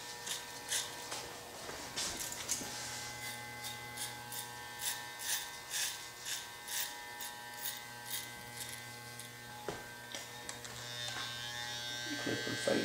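An electric hair clipper buzzes steadily at close range during an ASMR haircut roleplay, its hum swelling and easing in repeated short passes across the head, with a soft voice talking now and then over it.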